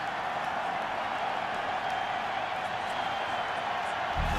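Stadium crowd at an NFL playoff game between the Steelers and Chargers, a dense continuous roar of applause and cheering with a swell near the end.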